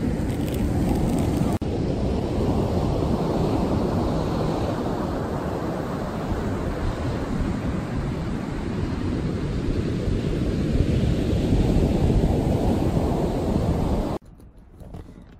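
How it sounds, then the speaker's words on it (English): Strong wind roars steadily and loudly around a small camper on the Oregon coast at night, a dense unbroken rush that cuts off abruptly near the end. "is so windy outside. Do you hear that?"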